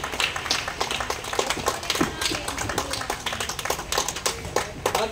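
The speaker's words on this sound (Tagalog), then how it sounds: "Again, salamat po sa ilang pumalakpak sa inyo para sa Lord." A church congregation claps by hand, a dense run of crisp, uneven claps that carries on steadily with some voices mixed in.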